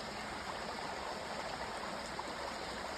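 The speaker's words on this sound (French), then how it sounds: "d'entendre l'eau qui coule" Water flows steadily in a continuous soft rushing hiss, like a stream or small cascade, fairly faint and unchanging throughout with no voices.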